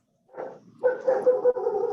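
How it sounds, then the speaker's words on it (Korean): A small puppy gives a short yip and then a longer drawn-out whine-bark, fairly close and clear. Nobody talks over it. "강아지가 아멘을 하는 것 같은데요."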